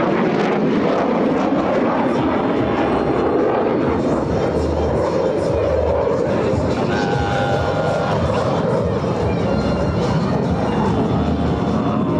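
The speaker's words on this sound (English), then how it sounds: "As each aircraft accelerates to 500 miles per hour, they'll perform a half-Cuban 8 reversal turn." US Navy Blue Angels jets roaring past at the NAS Patuxent River air show, a loud sustained engine rumble and whine over several seconds with crowd noise and announcer talk underneath.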